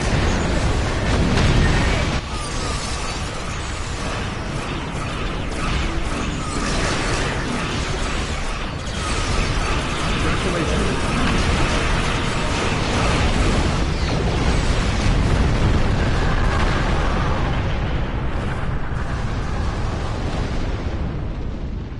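Ship weapons and explosions from a space battle in Star Trek Online on PS4 make a dense, loud, continuous roar of blasts and bursts for the full stretch, with faint game voices mixed in.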